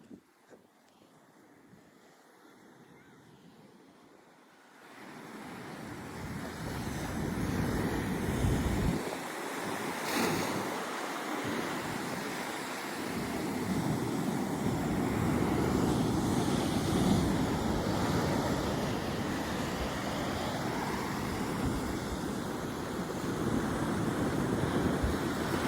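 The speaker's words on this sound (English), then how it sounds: "Look at the waves, man. They're huge." Big ocean waves crash and roar close by, starting quietly and swelling into a loud, sustained surge of surf with gusty wind buffeting the microphone.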